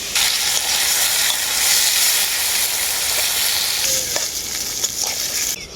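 Long-cut potatoes fry in mustard oil in a pan, a loud steady close sizzle and crackle with occasional stirring scrapes, no voices.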